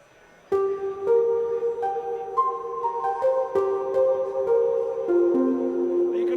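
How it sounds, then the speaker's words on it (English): A sampled Steinway upright piano with the felt pedal down, played from a Knobula Pianophonic synth module, gives a soft, muted sequence of single notes and gentle chords that ring on cleanly. "a Steinway upright with the felt pedal sampled."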